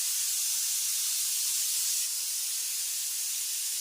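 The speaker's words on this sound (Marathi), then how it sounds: "कुकरची शिट्टी झाली." Steam hissing hard and steadily from a pressure cooker whistle in a village kitchen cooking on a wood-fired chulha, a loud, unbroken rushing jet that slightly eases partway through, with no talking.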